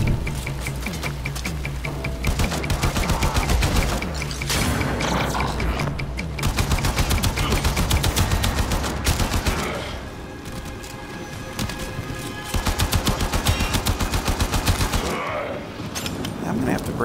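Rapid, sustained gunfire from a player's first weapon in the sci-fi shooter Warframe, a dense loud stream of shots running almost continuously with brief breaks, layered over busy game effects.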